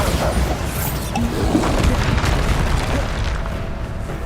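Rolling, booming spell explosions in Hogwarts Legacy, a dense rumbling blast that holds loud and steady for several seconds with scattered crackling debris over it.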